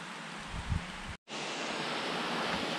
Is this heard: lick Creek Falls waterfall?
yes